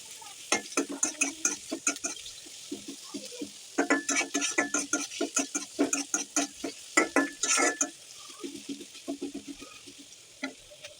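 A large batch of chopped onions frying until reddish in a pan for tengra fish bhuna, heard as rhythmic, close stirring scrapes in quick bursts over a continuous sizzle.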